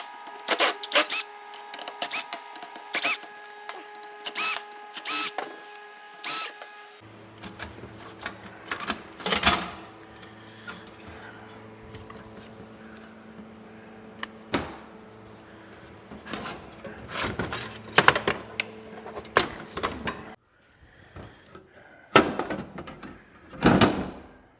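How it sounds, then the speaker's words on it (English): A vintage computer is pulled apart for scrap: repeated sharp clacks, rattles and knocks of metal and plastic parts, with a steady mechanical hum in stretches between bursts. "Now we'll tear this thing apart."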